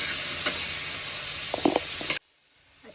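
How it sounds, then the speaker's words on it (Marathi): Tomatoes stirred into already-sautéed onion in a hot pan give a steady, loud sizzle with a few scraping stirs, then the sound cuts off abruptly near the end, leaving near silence. "आता ह्याच्यामध्ये टोमॅटो टाकूया. टोमॅटो पण छान परतवून घेऊया."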